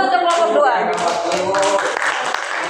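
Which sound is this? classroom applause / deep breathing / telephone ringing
classroom applause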